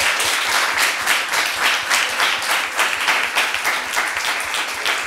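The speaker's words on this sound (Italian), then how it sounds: "Eccoci qua tutti insieme, un bel applauso" Dense applause from a crowd of high school students at an Italian school event, steady and loud throughout, with a faint voice briefly audible beneath the clapping.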